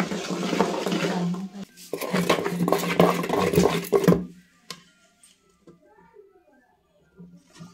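A thick sweet mixture is stirred firmly in a pan, giving dense scraping and patter for about four seconds before it stops; a person talks over it.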